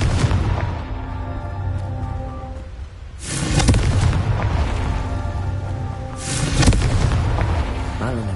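A Confringo spell explodes in Hogwarts Legacy, giving two heavy booming blasts a few seconds apart over a continuous dense rumble of game music and effects.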